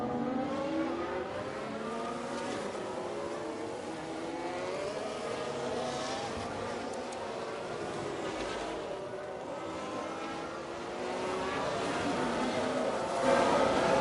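Formula 1 cars racing around Monaco in F1 Manager 23, a steady layered engine whine rising and falling as cars push along, moderately distant, with a voice talking over it.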